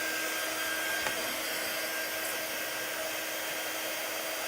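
Hair dryer blowing continuously on a craft project, a steady loud whirring rush with no pauses and no voices.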